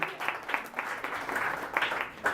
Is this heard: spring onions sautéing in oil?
no